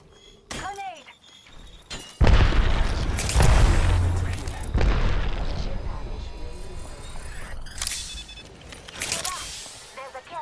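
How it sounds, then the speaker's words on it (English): Grenade blast in the battle royale shooter Apex Legends, a heavy thump followed by rumbling debris and scattered gunfire, with several more sharp impacts and brief character voice lines around it. "Grenade."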